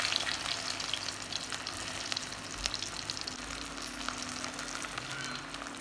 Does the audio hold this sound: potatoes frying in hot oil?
yes